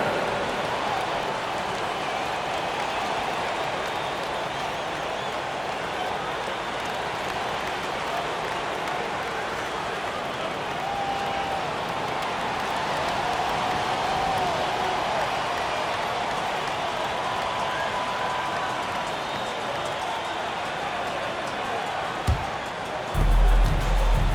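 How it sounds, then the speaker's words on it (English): Steady crowd applause fills a virtual basketball arena during a Knicks home game in NBA 2K23, a continuous wash of clapping and cheering that holds at even loudness throughout. "Give a big round of applause to your Knicks City Dancers"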